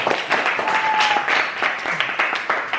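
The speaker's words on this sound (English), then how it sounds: "let's give a round of applause for Ilham." Applause from a small group at a public speaking workshop, a lively patter of clapping hands close by, steady for a few seconds with uneven bursts and faint voices mixed in.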